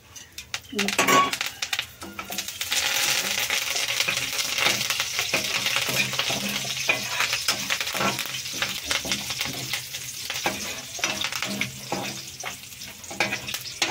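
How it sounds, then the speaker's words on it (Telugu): Tempering of spices, chana dal, mustard seeds, cumin, dried red chillies and curry leaves sizzles and crackles in hot oil, with a spoon stirring and clinking against the pan while a person talks over the frying. "తాలింపు వేగుతుంది, కొంచెం ఎర్రగా అవ్వాలి"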